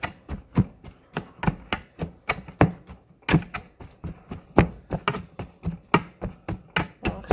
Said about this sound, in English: I'm actually going to chop.